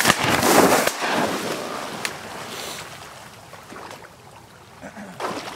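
A shotgun fires during a mallard duck hunt outdoors, a loud blast at the start followed by a couple of fainter shots against background noise.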